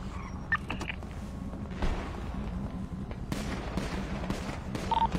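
Gunfire rattles through a GTA roleplay shootout, sharp bursts and cracks repeating over a steady rumble of game noise, with louder volleys near the end.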